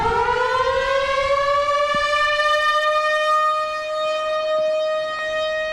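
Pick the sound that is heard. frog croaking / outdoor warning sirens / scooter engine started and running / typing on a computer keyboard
outdoor warning sirens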